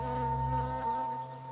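Honeybees buzz steadily at an open hive, a close, dense hum with a sustained drone that holds without talk for a second or two.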